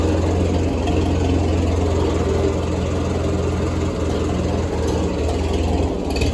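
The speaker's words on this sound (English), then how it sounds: "Okay, we'll start up the tractor." A Grey Ferguson tractor engine runs at idle, a loud, close, steady low rumble that holds evenly throughout with no other sounds.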